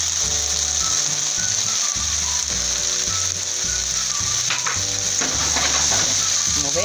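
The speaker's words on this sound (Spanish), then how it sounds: "Estamos friendo más o menos 2 minutos la carne." Beef fries in a pan with chili and onion, a steady close sizzle running throughout beneath intermittent rhythmic clanking of a utensil against the pan.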